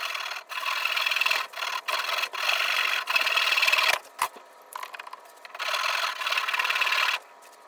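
A hand saw cuts a wedge slot into the wooden handle of a forest-made axe, with close, rasping strokes in bursts separated by short pauses and no voices.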